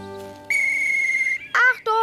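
A shrill trill whistle is blown in a long sustained blast, then two shorter warbling trill bursts follow, loud and close.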